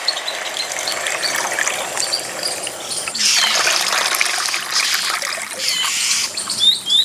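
Water poured into a cooking pot of rice for chicken khichuri, a steady splashing rush that grows louder midway amid light clinks and rattles, close and continuous with no talking.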